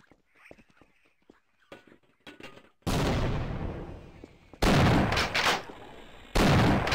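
Grenade explosions in the Half-Life video game, Xen level at Gonarch's Lair: after faint scattered clicks, three loud, sudden booming blasts go off in turn, each with a rumbling decay, with no talking.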